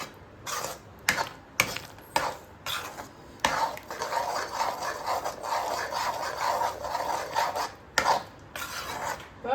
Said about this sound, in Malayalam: നമുക്ക് ഇളക്കി യോജിപ്പിക്കാം.